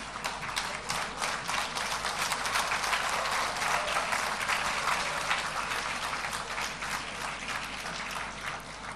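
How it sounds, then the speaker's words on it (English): Conference audience claps for a doctor invited on stage at an international health conference, a steady fairly faint patter of many hands with distinct individual claps, running unbroken throughout. "Please give a huge round of applause."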